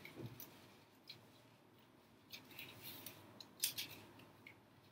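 Scissors snip through a plastic bag in a few sparse, soft cuts with faint rustling between them, quiet and close in a calm room.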